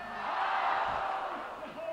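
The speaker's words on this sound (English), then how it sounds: "Crowd getting behind him." Crowd at a bouldering World Cup final in Vail cheering and urging on a climber, a broad swelling roar of voices with faint commentary underneath.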